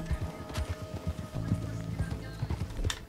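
Hooves clip-clop at a steady trotting rhythm as a horse is ridden in the western game Red Dead Redemption 2, each fall distinct and close, with a faint ambient background.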